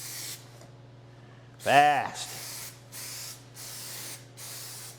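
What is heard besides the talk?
spraying 3M 80 spray adhesive glue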